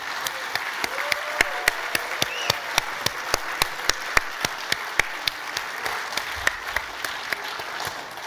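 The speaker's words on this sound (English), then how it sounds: "give John Chauvin a huge round of applause" A large university audience claps steadily for an honoured researcher, soft and somewhat distant applause with a few sharper individual claps standing out in a loose rhythm.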